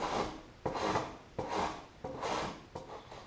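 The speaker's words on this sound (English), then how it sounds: "I'm simply going to take a file and just start filing that down until I get it to where I want." A hand file rasping down the edge of a wooden seat board for a Country Squire wayback seat rebuild, five quick close strokes in an even back-and-forth rhythm.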